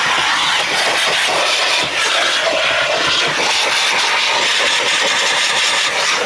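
A powerful Maxshine car dryer air blower roars steadily and loudly throughout, a constant broadband whoosh with no pauses or voices.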